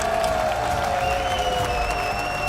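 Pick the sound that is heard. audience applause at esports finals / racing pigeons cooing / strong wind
audience applause at esports finals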